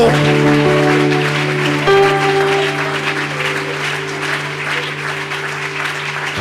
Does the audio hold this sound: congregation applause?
yes